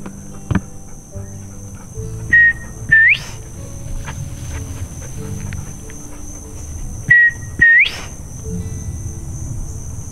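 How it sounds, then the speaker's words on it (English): Quail calling on a ranch, two pairs of short rising whistled calls a few seconds apart over a steady background of insect chirring and faint hum. "Listen to all the quail."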